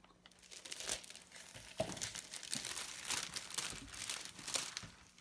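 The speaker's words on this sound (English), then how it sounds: "I'm going to go ahead and I'm going to bring my cellophane wrapping and" Cellophane wrap crinkles and rustles around a movie theatre treat bucket in irregular close bursts, soft and with no talking.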